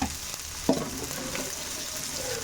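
Onion, capsicum and chilli fry in a pan with a continuous close sizzle, broken by a sharp utensil knock early on and a few faint stirring scrapes.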